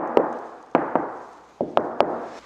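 Bare hand knocking on the high roof panel of a van, six sharp hollow knocks in an irregular rhythm, close and clear with no talking.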